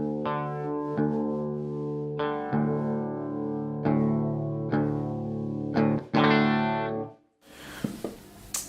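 A Mesa Boogie Nomad 55 head on its high-gain metal channel plays heavily distorted, saturated guitar chords, loud and close with a sustained, buzzy tone. Several strummed hits ring out in turn, then the sound cuts to a brief noisy, hissing tail.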